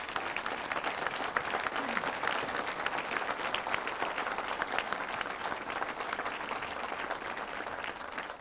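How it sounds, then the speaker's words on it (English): Sustained audience applause for high school students standing at a city government address in Kansas City, Kansas, a steady dense clapping that fills the whole stretch without any talk over it. "we need to give them a round of applause"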